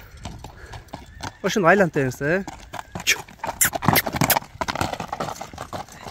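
Horses shift about in a pen, hooves clip-clopping on the ground while one gives a clear whinny early on, all under someone talking.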